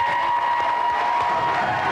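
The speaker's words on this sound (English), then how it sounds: "Round of applause for Claire." A studio audience at a video-game contest applauds in a dense, steady wash of clapping that runs throughout at even loudness, with faint crowd noise underneath.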